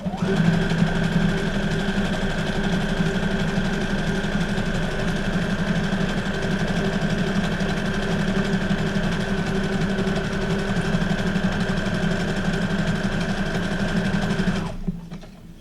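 Sewing machine running a decorative stitch on paper journal cards made from guest checks, a loud, steady, close humming drone that holds for about fifteen seconds before winding down, no talk.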